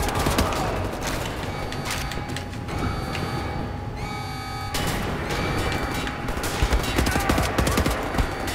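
Sustained in-game gunfire in Wolfenstein The New Order, a player pumping round after round into an already-dying enemy; dense rapid shots over a busy combat soundscape, continuing loud with a brief lull midway.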